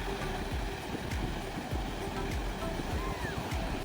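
Ocean waves washing onto a white sand beach at Twilight Beach along the Esperance coast, a steady rushing surf with repeated soft swells breaking close by, continuous and fairly loud, with faint voices mixed into the background.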